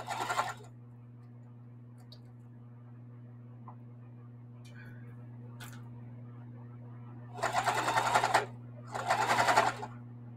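A sewing machine winds bobbins in short bursts, with two longer whirring runs near the end, close and fairly quiet over a steady low hum.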